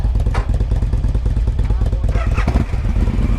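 A Suzuki M109R motorcycle engine running with a loud, steady low rumble, close up, without a distinct starting crank.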